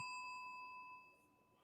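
A single bell sound effect rings once with a clear ding, then its ringing tone fades out over about a second, alone and without any talk.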